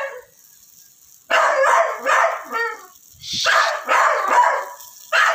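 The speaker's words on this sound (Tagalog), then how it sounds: "Ingay yung aso ng boss." A boss's dog barks outdoors at a backyard grilling of pork belly and intestines, loud repeated bursts in two clusters with a brief pause between, fairly close.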